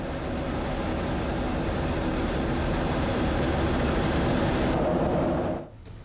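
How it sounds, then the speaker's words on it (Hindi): Dassault Rafale fighter jets on patrol over Poland give a loud, continuous roar that holds for several seconds and then cuts off abruptly near the end. "पोलैंड के आसमान में राफेल फाइटर जेट्स की गश्त जारी है।"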